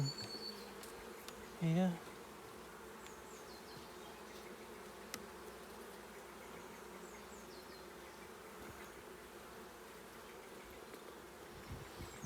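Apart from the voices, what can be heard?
honeybees buzzing during a hive inspection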